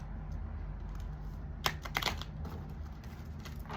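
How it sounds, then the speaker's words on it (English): A short burst of crisp riffling clicks from shuffled cards, close by, over a low steady hum, with a few soft taps afterward. "Oh, that was a bad shuffle."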